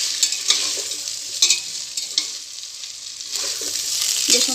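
Paneer fried rice sizzles steadily in a hot pan, close and loud, while the spoon scrapes and clatters through it in irregular strokes, with no voices.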